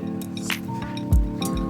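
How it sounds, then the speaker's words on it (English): Farina flour being stirred into boiling water in a pot gives close, wet squelching and dripping sounds with a few light clinks of the utensil, busy and continuous. "Go in with your flour and start mixing it."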